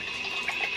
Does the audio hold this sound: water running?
yes